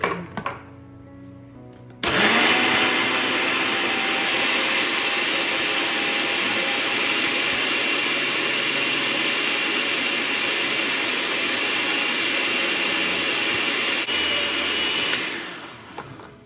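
A blender grinds almonds, blueberries and milk into a protein shake, starting after a short quieter lead-in, then running as a loud, steady whirring roar for about thirteen seconds before winding down.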